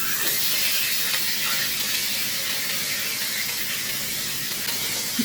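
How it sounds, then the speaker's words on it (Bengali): Rohu fish frying in a pan gives a loud, steady bright hiss of oil, continuous and close, with no talk. "রুই মাছটা ভালো করে এপাশ ওপাশ দুপাশ করে ভেজে নিয়েছি।"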